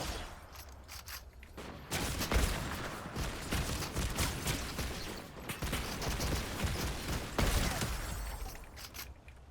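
Bursts of gunfire in the video game Fortnite crackle through a busy, noisy game mix, with several sharp volleys standing out over about nine seconds.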